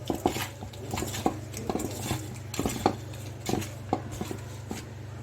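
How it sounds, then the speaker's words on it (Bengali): Small pabda fish are worked by hand with turmeric and salt in a bowl, giving soft wet squelches and light clicks and knocks against the dish in an uneven rhythm over a low hum. "আমি এখন এই যে হলুদ আর নুন দিয়ে মাছটাকে মেখে কিছু সময়ের জন্য রেখে দেব।"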